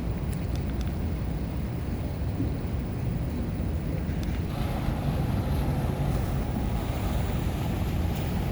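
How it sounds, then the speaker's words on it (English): A water taxi motors along the New River in Fort Lauderdale, Florida, its low engine drone and churning wake blending with wind buffeting the microphone, steady and fairly close throughout. "This is a water taxi."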